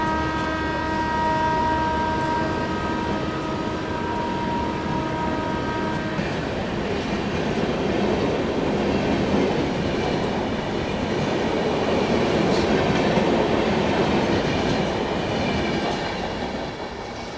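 The 12303 Poorva Express accelerates along the rails with a loud, continuous rumble and rattle of wagons, tonal horn-like notes early on giving way to dense rolling track noise.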